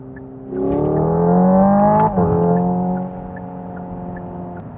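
A 2024 Hyundai IONIQ 5N electric car plays its simulated engine sound, a smooth synthetic rev that climbs and holds, dips sharply as if through a gear change, then settles into a steady drone. It is loud and close, with no speech.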